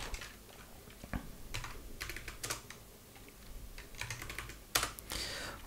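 Computer keyboard typing, bursts of close, crisp key clicks in irregular clusters with short pauses between, no voice over them.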